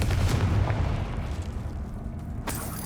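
Confringo blasting spell cast in Hogwarts Legacy, a deep booming explosion that rumbles and fades over a couple of seconds, followed by a sharp burst near the end.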